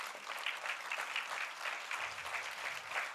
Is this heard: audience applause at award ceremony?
yes